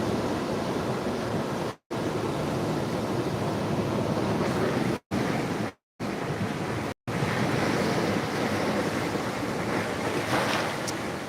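Continuous rushing water fills the clip, loud and steady like surf or running water, with brief dropouts where the sound cuts out entirely; no voices are heard.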